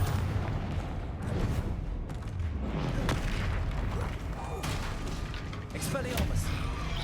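Confringo blasting spells exploding in the video game Hogwarts Legacy, heavy booms going off repeatedly amid a dense, continuous roar of spell combat.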